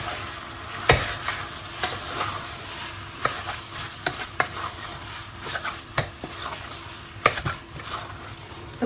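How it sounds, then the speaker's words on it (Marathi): Meat coated in Goan red masala is stirred in a pan: a low sizzle runs under repeated sharp scrapes and clacks of a spoon against the pot, coming every second or so, close and distinct. "हे आमी आतां ह्या मसाल्यान घालया. हे आमी मिक्स करूया."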